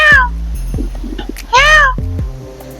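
A cat at Vizag zoo gives two loud, close meows, one at the start and a longer one midway, with faint murmuring and movement between them.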